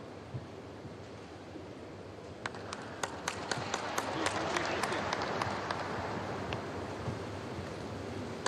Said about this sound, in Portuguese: Aplausos para o ucraniano